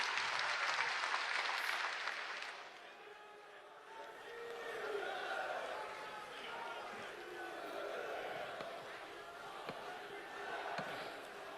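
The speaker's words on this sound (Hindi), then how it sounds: "तालियों की जोरदार गूंज के साथ भारत के माननीय प्रधानमंत्री श्री नरेंद्र मोदी जी" Crowd at a political rally in Assam applauding Prime Minister Narendra Modi, a dense, steady wash of clapping that is loud at first, dips, then swells again with cheering throughout.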